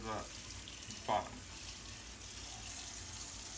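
Warm water running from a kitchen tap while a dish is washed up, a steady hiss of flow throughout with a couple of brief clatters near the start, and a voice talking faintly over it.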